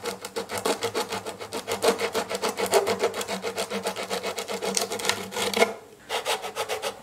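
Wood on a Gibson guitar is sanded by hand with quick, rhythmic rasping back-and-forth strokes, loud and close, broken by a brief pause before the strokes resume.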